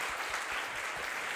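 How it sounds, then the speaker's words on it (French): A dense, steady burst of audience applause fills a business event featuring Shopify and Payplug, loud and continuous with no voices over it. "Donc juste gros tonnerre d'applaudissements"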